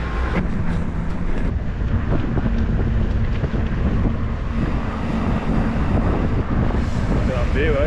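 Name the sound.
breeze blowing on the microphone outdoors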